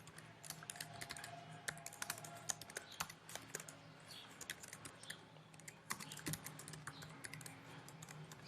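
Quiet, rapid computer keyboard typing while code is written, irregular clusters of close key clicks with brief pauses and no voices.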